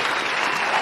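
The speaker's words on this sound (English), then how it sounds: "give him a round of applause" A brief burst of dense clapping from a small audience, a steady crackling spread of applause heard close and alone.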